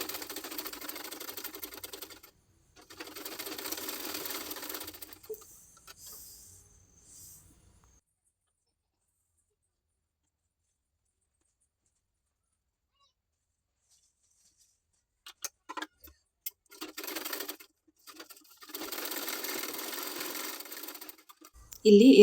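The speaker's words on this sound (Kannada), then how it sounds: "ಈ ರೀತಿ ಫೋಲ್ಡಿಂಗ್ ಮಾಡಿ ಈ ಪೈಪಿಂಗ್ನ ಇದರೊಳಗೆ ಇಟ್ಟು ಈಗ ಈ ರೀತಿ ಸ್ಟಿಚಿಂಗ್ನ ಹಾಕ್ತಾಯಿದ್ದೀನಿ." A sewing machine stitches folded piping onto blouse latkans, running in steady whirring bursts that stop for a long silent stretch before starting again in short runs.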